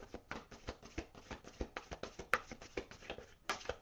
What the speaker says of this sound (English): One more shuffle for Aries.